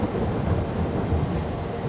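Steady rain and a low thunder rumble in Farming Simulator 22, a dense, continuous wash of sound with no distinct breaks and no voices over it.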